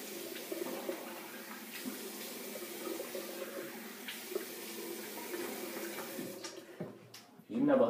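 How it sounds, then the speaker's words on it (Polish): Cold water running from a bathroom tap to rinse after a shave, a steady close splash and flow that continues for several seconds and swells louder at the end. "Dobra, a zimna woda w ruch."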